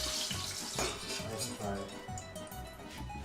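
Slices of eggplant browning in hot oil in a pan give a steady, dense sizzle that runs the whole time, with a little clatter and faint kitchen noise over it.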